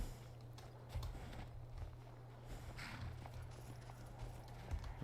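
A horse walks through mountain terrain in Skyrim, its hooves clopping in a steady, soft rhythm over a low, constant hum.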